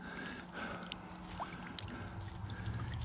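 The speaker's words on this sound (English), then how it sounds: "that's squirting so good it's going to squirt my water right out of the pond" A solar-powered fountain squirts water into a garden pond, giving a faint, steady splashing and trickling wash with no voices.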